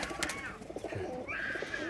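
Pigeons at a Lahore rooftop loft coo softly, a few low throaty calls with faint chirps and light background noise.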